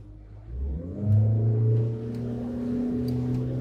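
A Phoenix 510 BR motor boat engine revs up as the craft accelerates, a rising, steady mid-pitched drone with a strong low hum, loud and close, with no talking over it.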